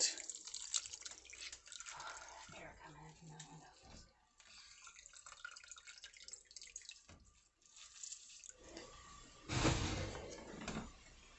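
Mashed watermelon is strained for juice, with trickling, dripping liquid and some splashes, close and fairly quiet, then a louder pouring burst near the end.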